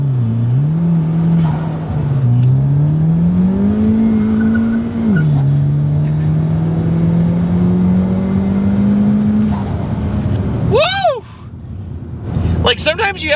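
Big-turbo Chevy Cruze pulling hard, engine droning and rising in pitch through gears with a dip at a shift, then a sharp whistling turbo rush and spool noises near the end, loud and close.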